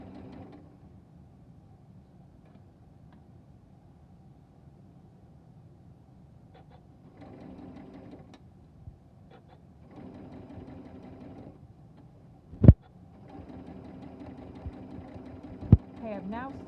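A sewing machine stitching a quilt block seam in short bursts of steady whirring, with pauses between runs and two sharp clicks, as a person talks throughout.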